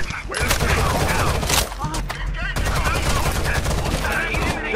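Video game gunfire from Rainbow Six Vegas 2 rattles in dense, sustained bursts of automatic shots, loud and continuous, with voices shouting over the firefight.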